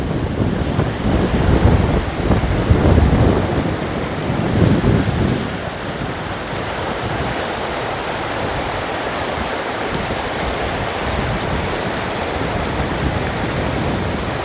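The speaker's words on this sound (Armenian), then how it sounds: "քամի է այստեղ" Wind blowing hard outdoors beside a river on a plot of farmland, a continuous roaring rush that is stronger and gustier at first, then settles into a steady broad hiss.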